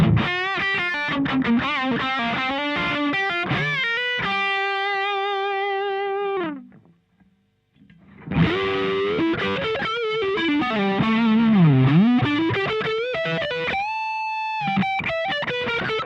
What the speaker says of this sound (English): let's listen to some overdrive sounds